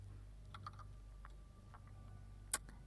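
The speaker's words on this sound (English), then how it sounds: "keyboard sounds okay" Soft computer keyboard typing in a quiet room, a handful of sparse light key clicks spread out with one sharper, louder tap near the end, all at a low level.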